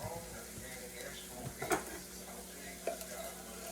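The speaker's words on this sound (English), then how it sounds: "We'll add a little bit more minced garlic to these." Minced garlic hitting a sizzling pan beside a steak dinner, giving a steady soft fry with a few sharp utensil scrapes and clinks as it is stirred in, close by and without talk.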